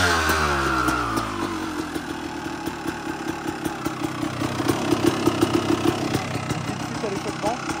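A Honda CR 250 motorcycle engine running close by, revving down and then holding a steady, popping idle with sharp exhaust crackles, while someone speaks over it.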